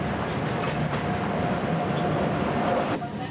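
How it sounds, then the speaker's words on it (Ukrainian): The Kharkiv-Truskavets passenger train rolls along a station platform, a steady close rumble of railway cars with a clacking wheel rhythm and brief squeal-like tones, no voices heard. "На перон прибув потяг Харків-Трускавець."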